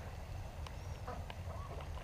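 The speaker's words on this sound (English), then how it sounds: "There's some ducks under the bridge right here." Ducks under a bridge outdoors give a few short, faint honking quacks over a low steady background rumble.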